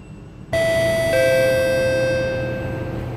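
A loud two-tone chime rings as the train doors close in the openBVE train simulator, the first note striking and a lower second following before both fade out slowly.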